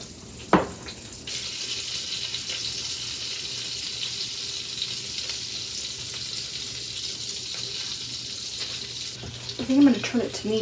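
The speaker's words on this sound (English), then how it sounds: "start breading these little pieces of stew meat in this flour mixture and dropping some in there so it can start frying up" Steady sizzling and crackling of flour-dredged stew meat frying in hot oil and butter, continuous and close, with a brief clatter near the start and a short voice near the end.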